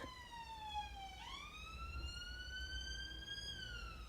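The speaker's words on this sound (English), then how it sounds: "Can you hear the sirens?" Police sirens wail in the distance, a faint, continuous tone sliding down and then sweeping back up, heard alone without talk.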